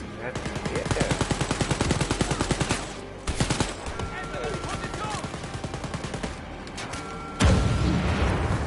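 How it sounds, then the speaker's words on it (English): An auto turret in the shooter game Wolfenstein: Youngblood fires rapid, evenly spaced automatic bursts, loud and close. The bursts pause briefly and resume, ending with a heavier blast near the end. "Up here is an auto turret. Every time you show your face out there, it's blasting you."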